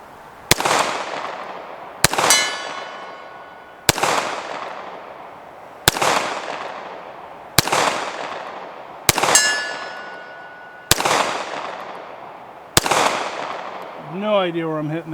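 Browning Hi Power pistol shots at steel targets: eight sharp, loud reports spaced about two seconds apart, each trailing into an outdoor echo, several with a ringing metallic clang from the steel, followed by a brief voice at the end.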